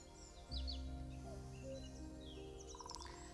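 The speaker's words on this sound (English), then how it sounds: "listening to the birds" Birds chirp and sing in a woodland, with short high calls and a brief trill standing out over a low, steady ambient hum.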